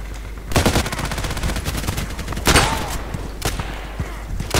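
Rapid bursts of automatic gunfire in the online shooter Contract Wars crackle close and loud, with a sustained stream of shots and a few sharper separate bursts over a constant game backdrop.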